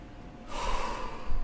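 A crying person sniffles and snorts while blowing their nose, one close, breathy burst that continues for about a second.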